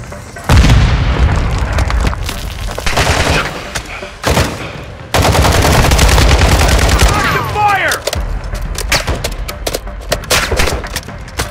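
Frag grenade blast and heavy gunfire in Call of Duty Warzone 2 DMZ: loud booming explosions and sustained automatic fire with short gaps, close and dense throughout, with brief voices in between.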